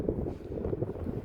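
Warm wind blowing at an outdoor bus stop, a steady low rumble and buffeting against the microphone that carries on without a break for the whole short stretch, with no voices.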